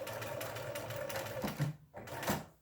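A sewing machine runs in a steady fast rattle while stitching a small fabric cup coaster. It pauses briefly near the end, then stitches again, close and moderately loud.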